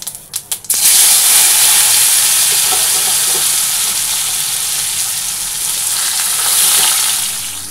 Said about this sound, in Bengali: এই যে জিরা ফোড়ন দেব।